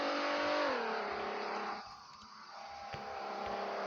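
A car drives along a mountain road in the Roblox game, its engine droning steadily with a pitch drop as it shifts, then quieting briefly before building back up, heard alone without talk.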